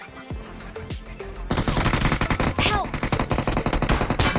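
UMP submachine gun fire in BGMI (PUBG Mobile) on a frozen map: after a few scattered game sounds, loud rapid automatic bursts erupt and continue densely, with in-game effects layered over the shooting.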